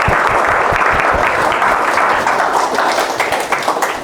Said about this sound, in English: please join me in giving Dr. Saeji a warm round of applause for a great presentation